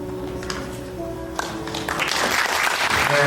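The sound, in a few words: applause at wedding ceremony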